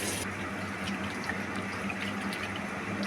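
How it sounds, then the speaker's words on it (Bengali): Bottle gourd stalks are rubbed and washed in water, with a steady run of splashing and trickling that stays close and fairly even throughout. "লাউয়ের ডাঁটাগুলোকে ভালো করে ধুয়ে নিচ্ছি কষলে কষলে, যাতে ডাঁটার মধ্যে থেকে ময়লা ভেজা বেরিয়ে যায়।"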